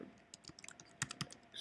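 Quiet, rapid keystrokes on a computer keyboard as a domain name is typed in, a brisk irregular run of light clicks close to the microphone.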